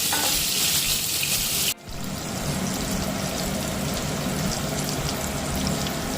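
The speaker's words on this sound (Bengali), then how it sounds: "পটলের মধ্যে আমি অল্প একটু লবণ ছড়িয়ে দেব দিয়ে পটলটাকে একটু লাল করে ভেজে আমি তুলে নেব" Salted pointed gourd pieces fry in hot mustard oil, giving a close, steady sizzle and crackle that drops briefly at one point, then settles into continuous frying.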